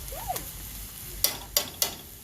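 Frozen corn and onion frying in a pan, a faint low sizzle broken by a few sharp stirring scrapes and clicks near the end, with no talking.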